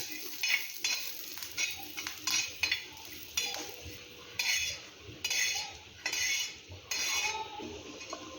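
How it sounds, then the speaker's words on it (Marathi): Chana dal and coriander seeds roasting in hot oil for a cauliflower curry, with a steady soft sizzle and repeated close scraping and clinks of a spoon stirring in the pan; no talk. "दोन चमचे हरभरा डाळ लालसर होईपर्यंत भाजून घेऊया"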